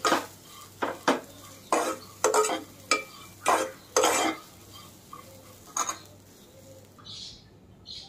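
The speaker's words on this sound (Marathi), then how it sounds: "मी मटकी घालते यामध्ये, थोडा वेळ भाजायची आहे" A spoon scraping and clinking against a pan while moth beans (matki) dry-roast, repeated rhythmic stirring strokes about every half second, close and loud, then slowing with a faint sizzle and a bird chirp near the end.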